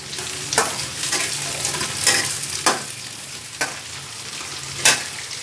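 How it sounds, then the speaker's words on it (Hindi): Chopped onion frying in a pan until golden brown, a steady sizzle broken by several sharp scraping stirs of a spatula at irregular intervals, close and fairly loud with no talking. "गोल्डन ब्राउन होने तक भूनना है।"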